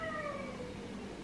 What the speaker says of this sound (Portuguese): Parece que tem alguém ali fora, mas é esses gatos